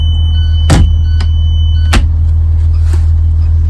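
An emergency window on a school bus is pulled open by its handle, with two sharp metallic clunks a second apart. A steady high electronic beeper tone runs throughout over the low rumble of the idling bus engine.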